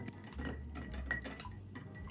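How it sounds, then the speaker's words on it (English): Cocktails stirred in glasses for a Negroni taste test, one batch with MSG and one with salt, giving a steady run of light metallic clinks and scrapes of a spoon against glass, close and clear with no talking. "Stir once more."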